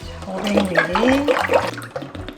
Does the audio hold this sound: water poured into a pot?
yes